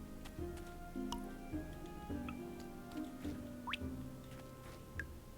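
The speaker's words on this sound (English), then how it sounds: "I like the little water noise it does." Crops being watered in the farming game Traveler's Rest, soft repeated dripping ticks and little liquid splashes over a looping musical background, fairly quiet.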